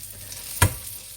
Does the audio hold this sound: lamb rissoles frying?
yes